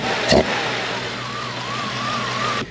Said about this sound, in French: le moteur, il tourne comme une horloge